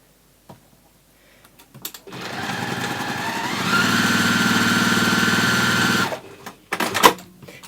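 A sewing machine stitching interfaced fabric for a nesting gift basket, a steady mechanical whir that ramps up and holds for several seconds, with small handling clicks before and after.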